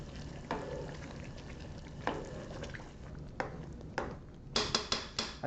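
Chicken with annatto is stirred in a pot over the heat, a steady sizzle of frying under repeated scraping and clinking of a utensil against the pot, louder strokes clustering toward the end.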